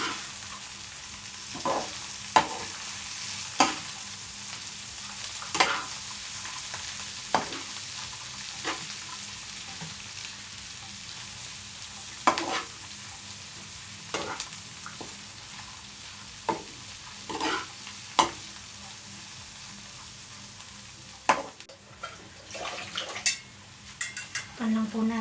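Marinated chicken liver and gizzard frying with kangkong in a pan give a steady close sizzle, while a utensil stirs and scrapes against the metal in irregular clanks and swishes throughout.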